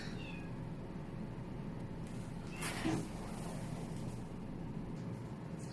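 Domestic cats meowing indoors, a brief fairly close call rising over a steady low background hum, otherwise quiet with no talking.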